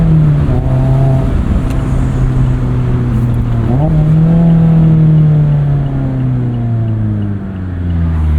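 Four-cylinder exhaust of a Mazda MX-5 Miata ND3 pulling hard through the gears, loud and close, with rising engine tones broken by a quick upshift partway through and no talking.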